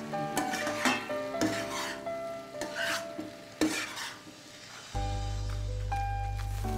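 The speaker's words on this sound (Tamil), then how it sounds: "இப்போ கடைசியாக நம்ம வந்து இந்த பொரிச்சு வச்சிருக்க பால்ஸை வந்து போட போகிறோம்" Fried atta balls are tossed and stirred in a spicy pan, with scraping ladle strokes and clinks of metal against the pan, then a steady sizzle rising in the final seconds, close and unaccompanied by speech.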